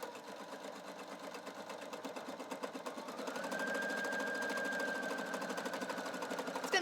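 Husqvarna Viking Sapphire 930 sewing machine stitching a buttonhole, a steady close mechanical whir with fast needle rhythm that rises slightly in pitch and loudness partway through and runs continuously.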